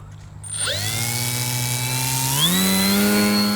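Electric motor of a Durafly Brewster F2A Buffalo RC warbird spins up at about half throttle, a steady close whine that rises in pitch and then climbs again near the end, heard alone.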